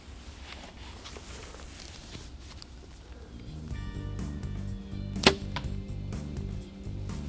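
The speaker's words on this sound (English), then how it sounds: "Quiet, deadly, and accurate. That's what you want in your hunting arrow." Hunting arrow shot from a bow on a practice range, one sharp, brief release and impact standing out against steady low background noise partway through.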